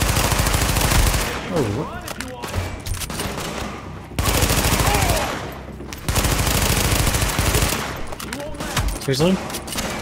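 Gunfire in The Division video game: loud, dense bursts of automatic fire and shots during a firefight, with game effects and a voice reacting over the shooting.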